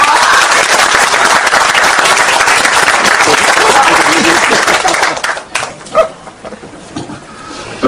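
Loud, dense applause from a lecture audience fills most of the stretch, steady and sustained before thinning into scattered claps and a short trailing burst near the end.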